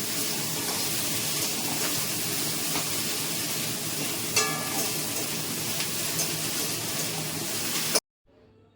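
Steady sizzling of okra frying in a pan, a continuous hiss with occasional clinks, cutting off abruptly near the end.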